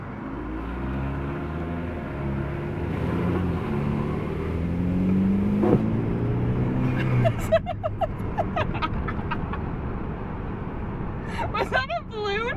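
A BMW F30 320 with the N20 engine and a muffler-delete custom axle-back exhaust drones and rises under throttle while driving, loud and close, with people talking over the engine throughout.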